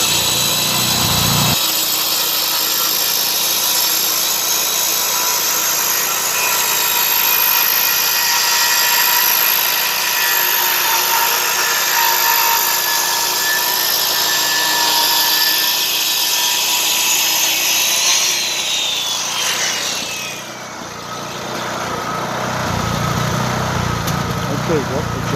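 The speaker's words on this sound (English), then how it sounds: "the generator ran out of gas" A portable generator engine drones steadily and loudly for most of the span while boards are ripped outdoors, then sputters and dies near the end, leaving quieter ambient noise as a voice speaks.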